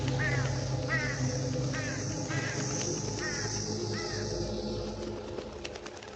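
Crows cawing in a steady series of harsh calls, roughly one per second, mixed with cooing pigeons and other bird sounds over a constant low background hum.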